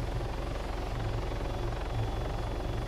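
Helicopter in the Arma 3 video game, a steady loud rotor thump and engine drone running throughout with no talk.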